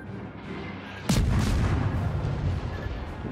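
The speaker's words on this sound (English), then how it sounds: "shots coming in" Naval shell fire landing near a Wickes destroyer in World of Warships: one sudden heavy boom followed by a long rumbling roar that stays loud to the end.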